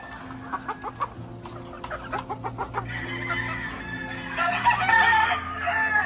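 Hens and roosters in a poultry pen cluck repeatedly in short bursts, then a rooster crows loudly near the end over steady farmyard background noise.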